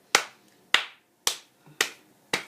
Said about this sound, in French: j'aimerais applaudir